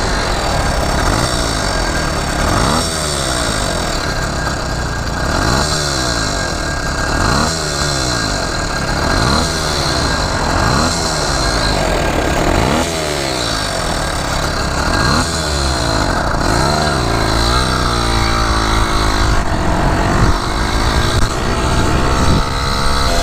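A gas-powered motorized bicycle with a powder-coated gloss white aluminum frame runs steadily, its small engine loud and close throughout, with repeated rising and falling revs.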